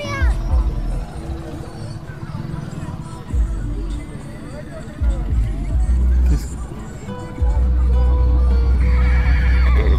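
Horse neighing among hubbub at a busy horse fair in Muktsar, with hoof clatter, crowd noise and people talking nearby, the whinny fairly close and loud through the bustle.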